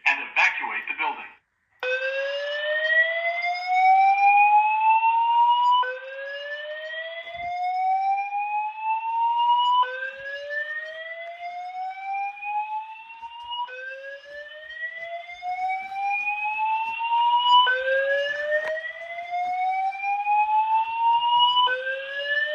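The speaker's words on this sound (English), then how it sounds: "There has been a fire alarm reported in the building." A building fire alarm evacuation tone from a voice evacuation system test sounds as a loud, repeating rising sweep, each whoop climbing for about four seconds before restarting, continuous and alone after a brief opening burst.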